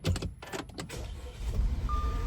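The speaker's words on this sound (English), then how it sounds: "let's go ahead and start this thing up." A 2016 Audi Q5 engine with a rough-idle fault cranks with a few quick bursts, then catches and settles into a low, steady idle nearby.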